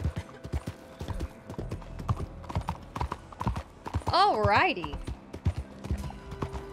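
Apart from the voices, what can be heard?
horse galloping in the video game Red Dead Redemption 2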